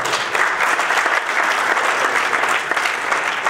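A crowd at a 2022 local election list presentation in Rivanazzano breaks into dense, sustained applause, many hands clapping together loudly and evenly throughout.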